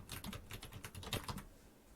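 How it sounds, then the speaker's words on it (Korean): Korean text is typed into a smartphone translation app, a quick run of soft keyboard taps, close and faint, with no talk. "텍스트 입력란에 한글로 반갑습니다 라고 한번 입력해 보겠습니다"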